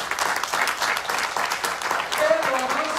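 A church congregation claps steadily and energetically throughout, a dense wash of many hands with a voice briefly rising over it near the end.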